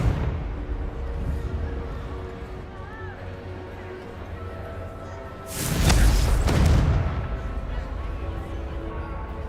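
A Confringo explosive spell blasts in the video game Hogwarts Legacy. One loud, broad burst of about a second rises over a busy battle background, with shouted voices around it.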